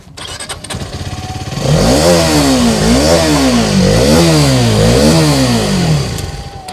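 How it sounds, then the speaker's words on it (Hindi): A Hero Karizma XMR 2023 motorcycle engine idling close by, then revved up and down in repeated rising and falling sweeps before settling back. "ध्यान से आप अगर इस बाइक को देखेंगे जब ये चलेगी तो आपको इसका जो साउंड है ना वो बहुत ज़बरदस्त लगेगा"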